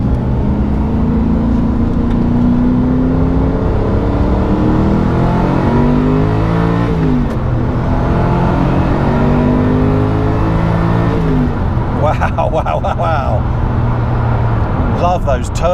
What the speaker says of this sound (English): That V8 sounds great.